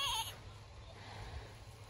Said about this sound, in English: Lots of goats.